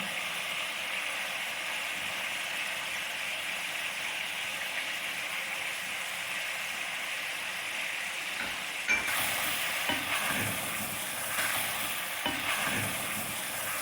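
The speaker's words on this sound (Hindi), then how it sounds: "फिर इसको भून लेंगे अदरक लहसुन के साथ।" Chicken frying in a karahi with ginger garlic paste gives a steady hiss; from about nine seconds, louder stirring scrapes and sizzling bursts join it, with no voices.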